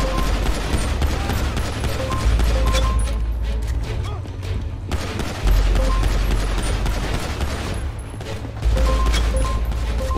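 Sustained video-game gunfire in a tactical shooter match, dense rapid volleys of shots and bursts running almost nonstop at high loudness, with occasional heavier blasts marking new waves of fire.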